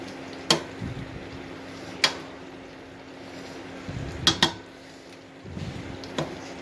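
Cooked pulao rice stirred in a pot: a few sharp clinks of a utensil against the metal rim, with soft scraping and shuffling of grains in between, close and fairly quiet.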